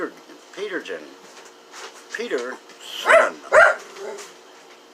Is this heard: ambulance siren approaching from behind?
no